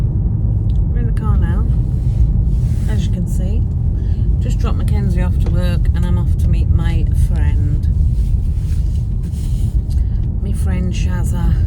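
Car interior on a drive, with a steady low engine and road rumble throughout, while someone talks over it at length.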